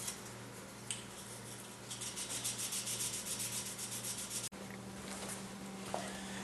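Hand sanding an acid-etched knife blade with light pressure, a steady close abrasive rubbing that runs through most of the clip and breaks off briefly near the end, with a low hum underneath.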